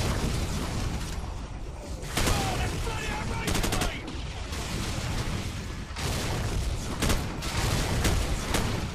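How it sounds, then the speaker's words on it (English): Gunfire in the video game Modern Warfare, bursts of rapid automatic shots and single loud cracks repeating throughout over a constant rumbling battle background, with some voices mixed in. "Guess I just start shooting now."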